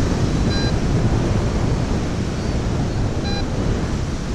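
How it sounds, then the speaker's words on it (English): Strong wind buffets a beach with surf, giving a loud continuous roar of broadband noise and microphone rumble with no break, and faint beeps from a metal detector sound twice. "Windy out"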